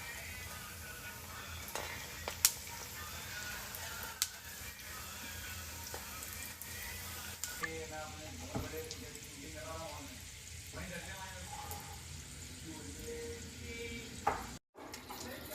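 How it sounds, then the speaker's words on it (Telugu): Cauliflower samosas deep frying in hot oil give a steady bubbling sizzle with scattered crackles and pops. A voice talks over the frying. "ఇలా రెడీ చేసి పెట్టుకొని ఇలా ఆయిల్లో డీప్ ఫ్రై చేసుకోవడమేనండి"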